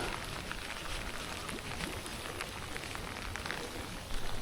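Steady rain falling outdoors during a lure-fishing trip at a river or shore, an even wash of soft pattering drops with no letup, moderately faint and continuous throughout.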